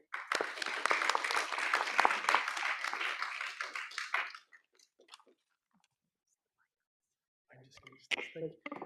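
An audience applauds at a talk on AI, democracy and public policy to welcome a speaker, a dense burst of clapping for about four seconds that stops abruptly, followed by quiet and then a voice beginning to speak.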